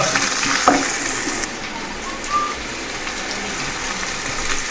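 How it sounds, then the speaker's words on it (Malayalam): Onions sautéing in coconut oil for a Kerala pork and koorkka dish, a steady close sizzle with stirring and scraping, continuous throughout. "സബോള വഴറ്റണ് വെളിച്ചെണ്ണയിൽ"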